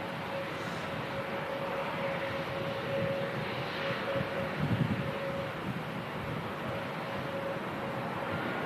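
An EasyJet Airbus A320 taxis past Terminal 1 at Manchester Airport, giving a steady, moderately distant jet engine rumble with a constant whine that holds evenly throughout.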